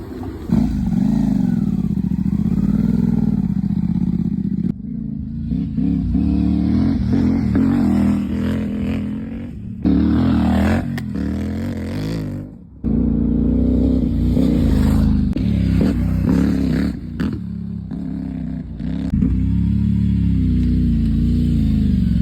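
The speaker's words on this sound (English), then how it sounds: "We'll jump back on this one and have a ride then, I reckon." A CF Moto 450MT motorcycle being ridden, its engine droning loud and close with repeated revs and gear-change dips, wind rumble and clatter across the run, and no talk.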